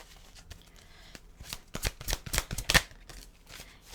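Tarot cards being shuffled and flipped during a pick-a-card reading, a run of crisp riffling bursts building in the middle and peaking in one sharp flurry, close by with no talking.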